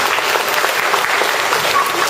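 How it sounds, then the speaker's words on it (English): Audience applause at a dog training demonstration, a steady wash of clapping lasting throughout, fairly loud and close with no break. "round applause for him"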